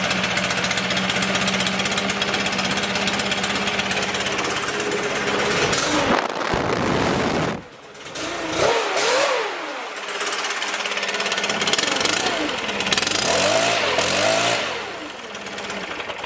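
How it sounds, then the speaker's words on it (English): A Stihl BR600 Magnum backpack blower fires on a semi-cold start with choke, then runs loud and close with a constant engine roar, one short drop and a few revving swells before settling back to full running. "we're going to do a semi-cold start on the Steel BR600 Magnum"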